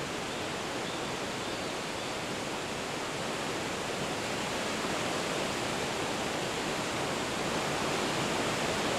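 Victoria Falls roars as a steady, dense wall of rushing water, broad and unbroken from start to end, loud and constant with no other sounds on top.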